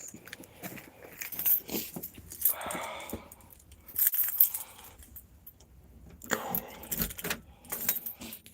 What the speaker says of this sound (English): My door keys.